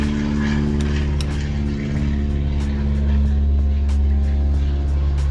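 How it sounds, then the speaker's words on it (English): A float plane flies past and lands on a river right outside a workshop, giving a steady, droning propeller hum that holds at moderate loudness throughout. "float plane going by outside, landing on the river right outside the shop here."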